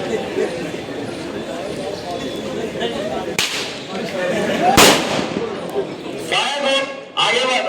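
Sharp gunshot cracks from a fire group laying down cover during a military exercise, a few loud isolated bangs against outdoor noise while someone narrates in Hindi throughout.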